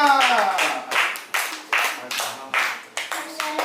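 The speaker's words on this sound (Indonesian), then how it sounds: "ayo tepuk tangan untuk kelompok 2." A classroom of students claps for a group, a few loud bursts of hand clapping, each fading before the next, in an irregular rhythm.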